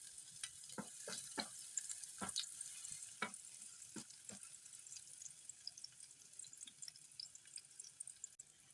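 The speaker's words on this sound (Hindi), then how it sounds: "पैन में 3 चम्मच के करीब ऑयल ले लिया है, इसमें एक प्याज चॉप किया हुआ वो मैं डाल दूँगी।" Chopped onion hitting about three spoons of hot oil in a pan gives a steady, quiet sizzle dotted with sharp crackles and pops, with no talking.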